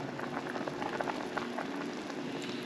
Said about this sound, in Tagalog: Takpan natin. Ayan, kumukulo na.